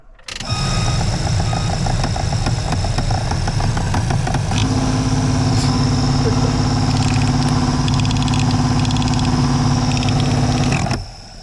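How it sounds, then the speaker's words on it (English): A worn-out blower motor from a 1988–98 OBS truck runs for about ten seconds: a loud, steady electric whine layered with rough humming and rattling, starting abruptly and cutting off just as sharply. "I'm going to do another demonstration of how god awful this thing sounds."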